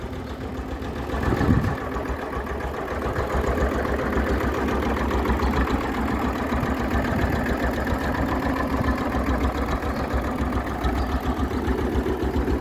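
Mini tractor engine idling steadily with a low, even rumble and faint knock, close and loud throughout, without any voices.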